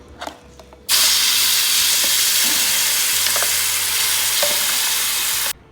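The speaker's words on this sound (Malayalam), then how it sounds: "ചൂടായി വന്ന നെയ്യിനകത്തേക്കാണ് ചക്കക്കുരുവിൻ്റെ പേസ്റ്റ് ഇട്ടത്" Jackfruit seed paste drops into hot ghee for chakkakkuru pradhaman payasam, bursting into a loud, steady hiss that holds for several seconds before cutting off, with faint stirring scrapes underneath and no speech.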